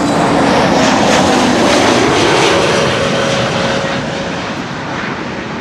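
An Aer Lingus airliner, flight 604 from Dublin, arriving at Amsterdam Schiphol Airport, its engines producing a loud, steady roar that holds throughout and eases slightly toward the end.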